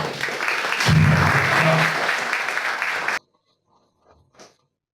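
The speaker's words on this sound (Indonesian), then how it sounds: "Tepuk tangan untuk Pak Winarto" Audience applause at a community meeting session, a loud sustained burst of clapping for about three seconds that stops abruptly, leaving near silence with a couple of faint knocks.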